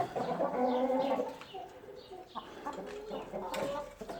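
Backyard hens clucking and murmuring while pecking at grated organic apple, a cluster of close, busy calls with a brief quieter pause in the middle.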